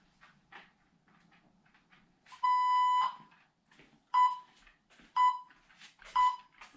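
An interval timer set up for heavy bag training sounds a long steady beep followed by three shorter evenly spaced beeps, loud and clear over faint background noise.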